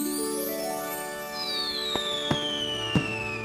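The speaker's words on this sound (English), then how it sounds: "Fireworks are exciting, but they must always be used safely." Fireworks going off in three sharp bangs, spaced roughly half a second apart, over a steady backdrop of whistling tones that rise and slowly descend, fairly faint overall.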